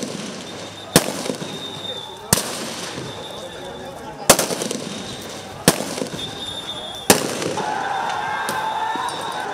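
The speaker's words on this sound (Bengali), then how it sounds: "মুহুর্মুহু গুলি, টিয়ার শেল," Gunfire and tear gas shells during clashes between law enforcement and protesters: five sharp, loud blasts spaced about one and a half seconds apart over a constant rumbling crowd din.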